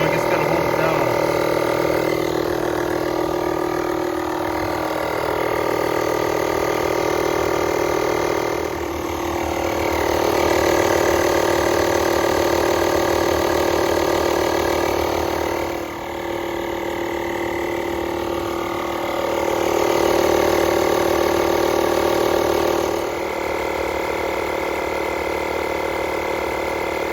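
A Lokithor JA301 jump starter's built-in air compressor pumps with a loud, steady mechanical drone and rapid rattling chug, running continuously up close with slight swells in intensity.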